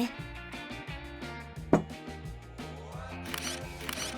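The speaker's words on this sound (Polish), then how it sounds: "Mojej też zrób zdjęcie." A smartphone camera shutter clicks once, a short sharp snap standing out briefly over music playing in the background indoors.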